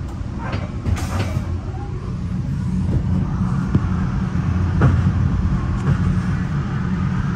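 A Metra BNSF Line bi-level commuter train rolls along the rails toward Chicago Union Station, a steady low rumble with scattered clicks and clunks of wheels over track joints, heard from inside the car.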